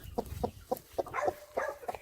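A black-footed hen sitting on eggs gives a quick run of soft, evenly spaced clucks, close and fairly quiet, ending in a short rising squawk.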